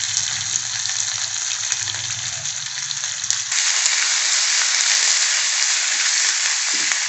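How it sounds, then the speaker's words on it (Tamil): Onion, garlic and dried red chillies sizzle loudly in hot tempering oil, a steady dense crackle that jumps louder partway through as more goes into the pan, with no talking. "இப்போ வெங்காயம், பூண்டு, வரமிளகாவை சேர்த்து அதையும் சேர்த்து தாளிச்சிடலாம்."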